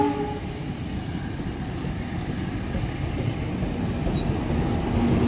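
The Gumarang passenger train pulls out of a busy Jakarta station at night, a steady low rumble of rolling cars holding close and loud throughout with no voices.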